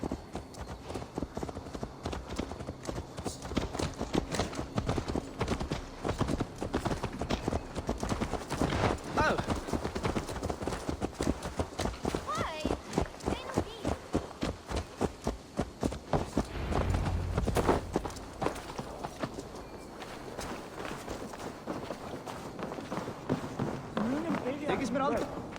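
Steady horse hooves clip-clop at a walking pace throughout in Assassin's Creed Valhalla, close by, mixed with music and occasional voices in the background.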